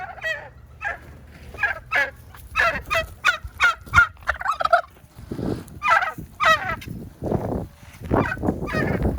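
A flock of turkeys gobbling in rapid, overlapping bursts, loud and close, with some lower honking calls mixed in.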